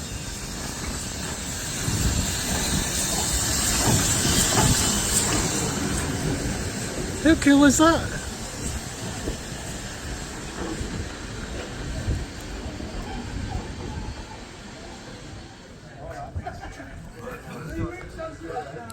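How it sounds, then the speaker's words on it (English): A steam train in Preston vents a loud hissing rush of steam, then rumbles and chuffs more quietly as it runs, with a person talking over it. "I'm going to get a ride in a steam train,"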